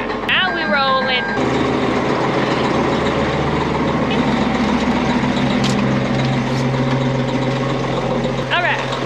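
A large 53,000 lb farm tractor engine rumbles steadily as it moves, a deep continuous drone with a brief beeping at the start and end, while a person talks over it.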